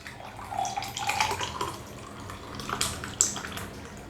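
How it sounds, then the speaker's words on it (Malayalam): Aval milk, a beaten-rice milkshake, is poured into a glass, making a soft liquid trickle and gurgle with a few drips and a light clink near the end. "ഇനി നമ്മൾ ഉണ്ടാക്കി വെച്ചിരിക്കുന്ന അവൽ മിൽക്ക് ഒരു ഗ്ലാസ്സിലോട്ട് ഒഴിക്കാം"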